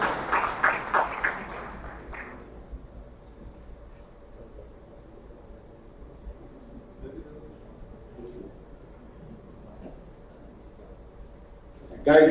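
Convention audience applauding in a brief burst of clapping at the start, which stops after about two seconds and gives way to a quiet hall with faint room noise.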